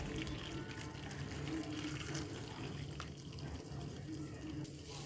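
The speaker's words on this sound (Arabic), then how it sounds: "بعد كده هنزل بقى بالميه السخنه" Hot water pours during household cleaning, a faint, steady splashing rush that continues without a break, heard alone in a quiet room.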